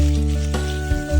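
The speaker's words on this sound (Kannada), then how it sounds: "ವೆಜಿಟೇಬಲ್ಸ್ ಎಲ್ಲ ಸ್ವಲ್ಪ ಚೆನ್ನಾಗಿ ಫ್ರೈ ಆಗ್ಲಿ" Capsicum, carrot and potato sizzle in oil in a pan for vegetable pulao, a short, loud, close frying hiss with a light stir near the end.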